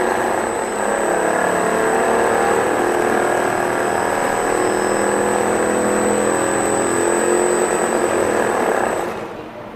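Twin-engine model aircraft motors run loud and steady alongside a thin high whine, holding a constant drone throughout before easing off at the very end.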